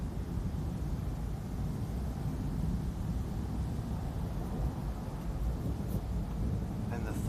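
A heat lightning storm sends a long, continuous thunder rumble rolling overhead, deep and steady like massed aircraft, with no break for several seconds.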